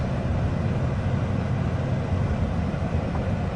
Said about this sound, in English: Trains going through here.